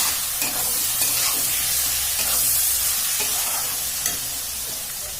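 Spices with turmeric powder fry for rajma masala in a loud, steady, close sizzle and hiss, with faint intermittent stirring scrapes beneath and no talking.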